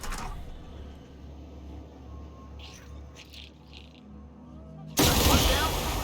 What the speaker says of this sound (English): I use the pistol.